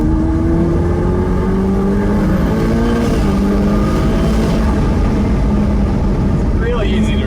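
A Ferrari F8 Tributo Spider engine drones loudly and steadily from inside the car, then climbs sharply in pitch as it revs near the end, with heavy road and wind noise throughout.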